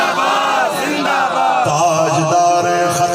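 Large crowd at a religious gathering shouting the slogan Tajdar-e-Khatm-e-Nabuwat in unison, loud rhythmic massed voices in repeated call-and-response bursts.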